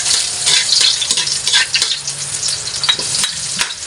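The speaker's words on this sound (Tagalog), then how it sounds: "igigisa ko muna ang ating bawang at sibuyas. Mainit na po yung mantika." Garlic being sautéed in hot cooking oil while making Filipino chopsuey, a close, crackling sizzle with uneven stirring pulses throughout and no talking.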